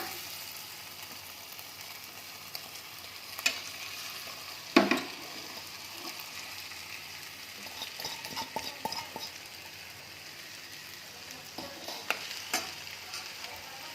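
Cooked rice being mixed into palak spinach in a pan, soft scraping and stirring with a gentle sizzle and occasional clinks of a spoon against the pan, quiet and close.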